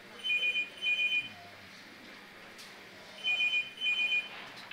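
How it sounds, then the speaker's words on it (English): A telephone rings in two pairs of bursts with a pause between, fairly faint over the quiet room background of a pool match. "there's a phone ringing"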